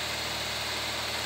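A 2012 Nissan Livina engine runs steadily near 2000 RPM during an intake treatment, a constant close mechanical hum with no change in pace over the short stretch.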